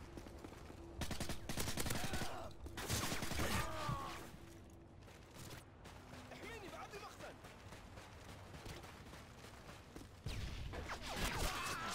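Gunfire in Call of Duty: Modern Warfare 2 on the Afghan map, bursts of rapid automatic fire and single shots coming in clusters at moderate distance, mixed with a player's voice talking over it.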